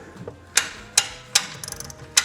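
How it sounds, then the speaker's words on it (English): A socket wrench ratchets while winding the spring of a Wayne Dalton Torquemaster Plus garage door: sharp, close metallic clicks come in a steady rhythm of about five strokes, with nobody talking. "So we'll just use a socket wrench here,"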